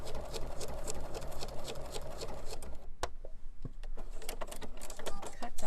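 Bernina sewing machine stitching fabric in bursts of fast, even needle chatter, with a brief pause midway before the stitching starts up again, close and moderately loud.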